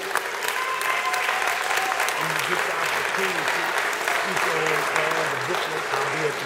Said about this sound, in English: a round of applause for this dude right here